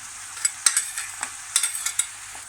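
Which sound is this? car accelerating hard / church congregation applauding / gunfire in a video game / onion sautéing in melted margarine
onion sautéing in melted margarine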